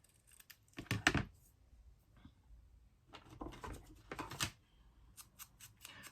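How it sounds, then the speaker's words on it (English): Scissors trim a small paper tag in a few sharp clusters of snips, quiet and close, separated by near silence and ending in light, rapid clicks. "I just have this little tag here. I'm just gonna give it a little trim,"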